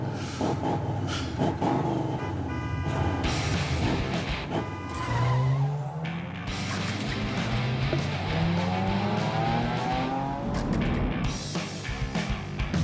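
Race cars roaring past with screeching tire squeals and skids in a Hot Wheels racing video game, loud and continuous engine whine with sweeping pitch changes as cars pass, no talk.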